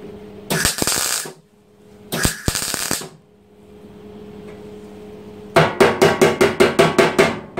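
Bursts of rapid metallic clatter, then a run of about ten sharp, evenly spaced hammer blows on a Honda ATC metal fuel tank being fitted for welding, close and loud.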